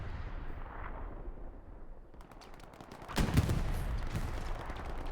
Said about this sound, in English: artillery wasting many people in the open there from ESPT